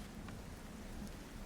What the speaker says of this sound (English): It's the sound of the rain above, and a few drips within the chamber.